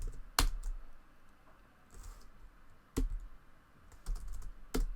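A few scattered keystrokes on a computer keyboard, sharp isolated clicks spread over a few seconds against a low background hum, close by with no speech.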